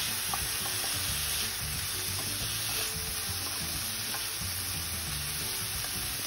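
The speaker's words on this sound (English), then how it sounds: "I'm gonna go ahead and add remaining soya mixture and give it a stir." Soya mixture fries in a pan with a steady crackling sizzle while a utensil stirs it, scraping and clicking now and then; close, quiet and without talk.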